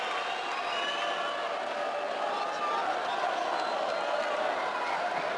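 Boxing arena crowd at a Carl Frampton versus Horacio Garcia fight, a steady dense roar of many voices with scattered shouts, continuous and fairly loud throughout, with commentary talk over it.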